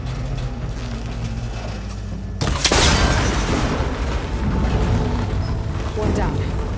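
Cable connectors shot and breaking in Horizon Forbidden West: a sudden loud burst cuts in over a steady game background, then a rumbling, crackling tail lingers for several seconds.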